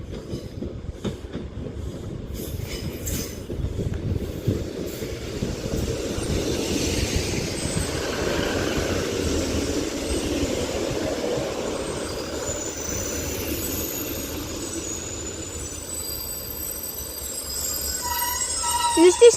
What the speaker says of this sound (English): There is also a Northern 156 arriving in now, heading to Liverpool Line Street from Manchester Oxford Road.